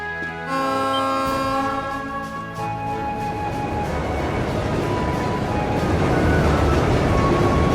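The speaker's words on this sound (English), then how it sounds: "It's a freight train from LeonheartGriever?" A freight train carrying tanks in the video game Trails of Cold Steel sounds a horn, then its steady rumble swells and roars past, growing louder toward the end with no talk.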